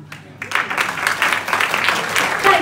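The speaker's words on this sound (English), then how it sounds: "Give her a massive round of applause" Audience applause at a community awards ceremony, a broad, steady wash of many hands clapping that swells after a quiet start and carries on through to the end.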